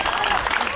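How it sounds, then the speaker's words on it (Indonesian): A group of people claps their hands in a short, dense burst of applause at a children's game, with voices mixed in. "tepuk tangan yuk."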